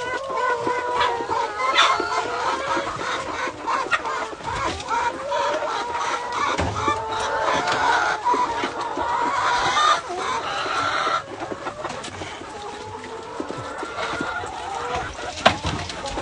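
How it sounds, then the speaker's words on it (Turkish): Laying hens on a village chicken farm cluck in a dense, continuous chorus, with many overlapping calls close by and a rooster-like crow mixed in, no talk. "Yumurtlayan tavuk var mı orada?"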